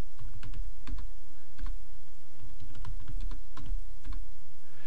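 Computer keyboard typing while customer details are entered into a cigar shop's customer system, a steady run of close, crisp key clicks in an irregular rhythm over a constant low background hum, with no talking.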